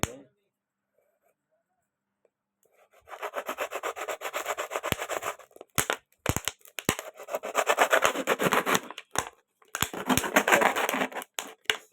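A plastic bottle is cut by hand in several bursts of rough, rasping cutting strokes separated by short pauses and sharp clicks, close up after a quiet start.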